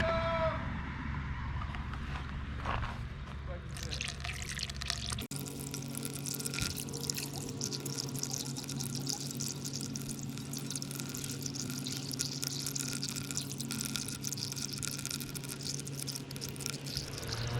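Green coolant from a 2007 ZX10R motorcycle pouring into a funnel, first a few drips and trickles, then a steady close splashing flow that carries on to the end.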